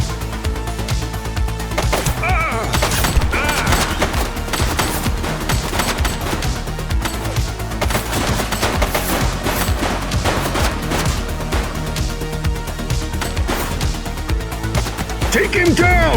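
Gunfire in The Precinct police video game, with dense, continuous bursts of shots and crashes over a steady game soundtrack, loud throughout and mixed with game voices.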